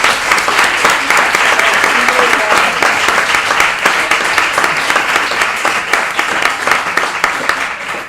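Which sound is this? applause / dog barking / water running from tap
applause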